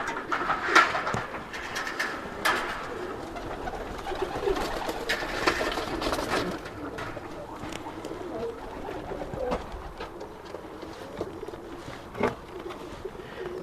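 Pigeons in a breeder's loft coo softly and repeatedly over a low background hum, with occasional flutters and clicks; no voices are heard.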